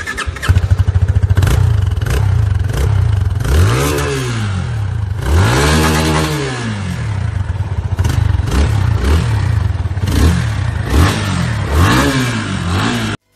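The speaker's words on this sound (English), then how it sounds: "Let's have a quick look on the exhaust sound of the FZ25." A Yamaha FZ25 motorcycle's exhaust barks loudly up close through a series of sharp throttle blips, revs repeatedly climbing and falling back to a steady idle, with no talking.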